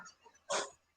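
A person's voice imitating a dog, a single short gruff bark-like burst, close and fairly quiet.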